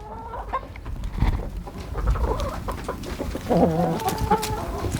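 Several hens cluck and chatter up close while pecking at chunks of cheese on a homestead, a steady, busy farmyard murmur with overlapping calls and no speech.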